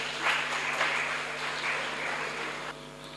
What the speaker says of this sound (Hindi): आप सभी से विनम्र अनुरोध है कि करतल ध्वनि से इस स्मारिका का स्वागत करें